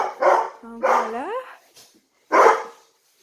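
Dogs at a small farm with little pens bark close by in three loud bursts, the middle one stretching into a rising whine before a short pause and a final bark.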